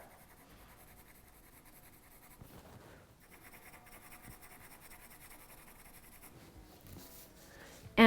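A pen or pencil scratches lines across paper up close, soft continuous scraping strokes with short pauses between them.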